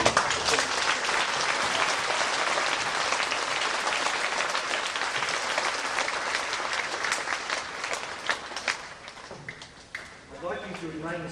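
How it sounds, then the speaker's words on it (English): Audience applauding family and friends at a school graduation ceremony, dense sustained clapping from a large crowd that tapers off near the end, loud and continuous. "can we give a round of applause"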